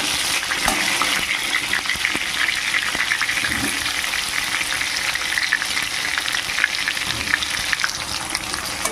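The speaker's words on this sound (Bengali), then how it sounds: "আলুগুলোকে ভাজবো" Potatoes fry in a pan of hot oil, a loud, dense crackling sizzle that runs without a break, with occasional soft knocks of a spoon against the pan.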